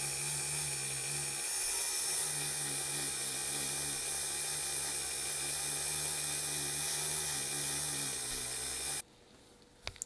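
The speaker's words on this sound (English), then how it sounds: "I'm gonna put it on the Dremel this time" A Dremel rotary tool spins steadily while polishing Meguiar's compound onto part of a Volkswagen, a continuous close whine that holds for about nine seconds, then stops abruptly, leaving quiet room tone and a couple of small knocks.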